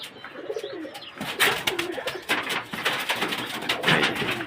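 Pigeons in a loft coo in repeated soft, low burbling phrases close by, mixed with wing flutters and scuffling movement throughout.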